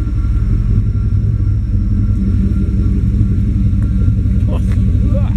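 GM throttle body injection car engine idling rough and running rich, a loud close continuous low rumble with an uneven pulsing beat, while a person talks faintly.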